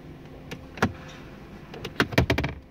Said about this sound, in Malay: Tengok saya buka dia punya tempat simpan barang ni